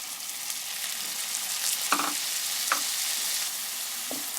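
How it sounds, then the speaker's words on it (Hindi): Tomatoes drop into browned onions frying in a pan, giving a steady bright sizzle with a few clicks and scrapes of stirring, close and unaccompanied by speech. "यहाँ पर टमाटो को भी डाल देंगे"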